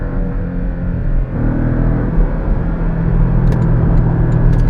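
A Porsche 718 Cayman GTS engine accelerates with a deep, steady rumbling roar that grows slightly louder and higher as it pulls, heard from inside the car.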